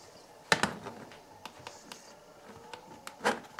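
Keys on a computer keyboard pressed one at a time in a quiet room, sparse clicky taps with a couple of sharper louder presses, close by.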